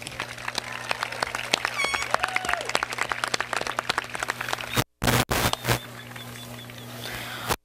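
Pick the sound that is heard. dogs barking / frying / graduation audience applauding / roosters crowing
graduation audience applauding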